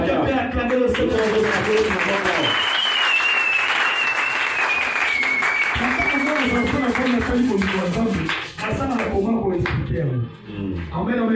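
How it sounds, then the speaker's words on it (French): Church congregation applauding and cheering to acclaim the Lord, a dense, loud, sustained roar of clapping and voices that fades briefly near the end. "Quelqu'un peut acclamer le Seigneur?"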